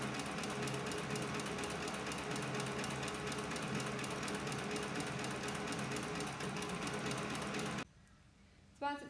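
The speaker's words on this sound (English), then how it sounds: "press the accelerator pedal, and it'll wind the thread onto your bobbin." A CB4500 leather stitching machine winds thread onto its bobbin with a steady, fast mechanical whir and rapid rhythmic clatter for about eight seconds, then stops abruptly with a faint click afterward, fairly quiet and close.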